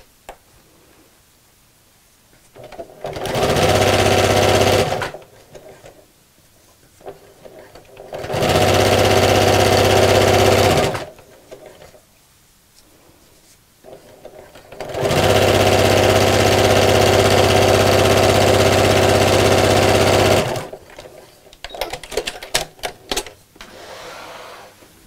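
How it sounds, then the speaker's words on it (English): A sewing machine stitches down the open side of a picnic blanket strap in three separate runs, each several seconds long, loud and close with quiet pauses between. "And then we're going to sew down the open side just to hold that together."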